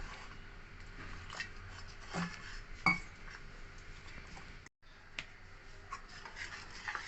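Gram flour batter for khaman dhokla being mixed by hand in a bowl, with soft, steady scraping and rubbing plus an occasional light clink of the utensil against the bowl, close and fairly quiet with no talking.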